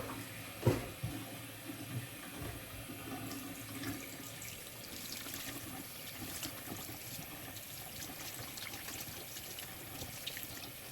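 Tap water runs steadily while conditioner is rinsed out of hair, a continuous close splashing hiss with small irregular splatters and a brief knock near the start.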